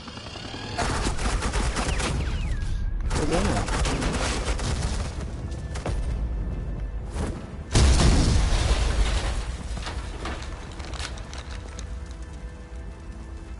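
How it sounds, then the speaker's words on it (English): Sustained suppressing gunfire in the video game Batman: The Enemy Within, dense loud bursts of shots filling most of the stretch with brief gaps, one sharp louder volley near the middle. "Suppressing fire."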